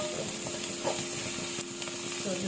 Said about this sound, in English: I'll fry the prawns now here when the oil really heats up